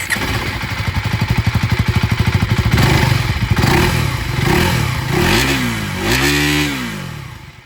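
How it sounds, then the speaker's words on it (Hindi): A KTM Duke motorcycle engine with an underbelly exhaust idles with a rapid pulsing exhaust, then revs up twice in rising and falling bursts, close and loud. "चलिए जो एग्जॉस्ट साउंड है वो भी सुना दो"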